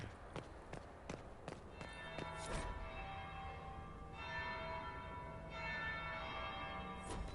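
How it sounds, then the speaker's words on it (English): Church bell tolling in the Dragon Age video game, struck several times with lingering ring, heard amid ambient game sounds with soft taps and footstep-like knocks. "That would be the second bell."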